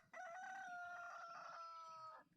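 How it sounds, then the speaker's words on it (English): A single loud rooster crow, used as the dawn cue in an Ultimate Werewolf game, rings out clear and close, sustained for about two seconds before cutting off, with nothing else underneath. "Roosters are crowing."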